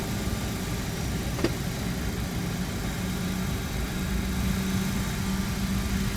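A CRJ-200 jet engine spools up in a flight simulator, a steady low rumbling whine that holds fairly even throughout at moderate loudness, with no talking over it.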